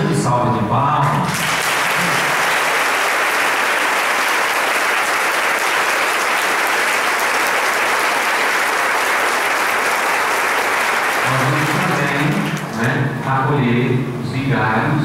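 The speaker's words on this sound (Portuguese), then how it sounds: "acolhido o nosso pároco com a calorosa e grande salva de palmas" Warm, sustained applause from a parish congregation at São José parish in Vila Pery welcomes the new parish priest at his installation, a loud, dense roar of clapping lasting about ten seconds, with speech just before and after it.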